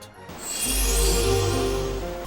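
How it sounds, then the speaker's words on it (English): Pause sound from a Hercules video game, a dense, loud swelling blast of layered tones that rises and holds for about two seconds. "Best thing about this game is the overpowered ass pause sound"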